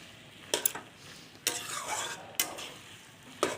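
A spatula stirs spinach and prawn curry in a pan, giving several sharp scraping strokes spaced about a second apart over a soft, steady background sizzle, with no talking.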